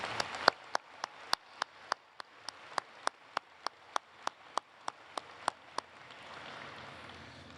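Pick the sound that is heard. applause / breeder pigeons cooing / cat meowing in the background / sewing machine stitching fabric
applause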